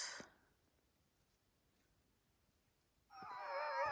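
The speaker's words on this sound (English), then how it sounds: "The dogs are pretty excited." Excited dogs at a riverside camp on a quiet spring night let out bursts of high yelping and howling at the start and again at the end, with near silence in between.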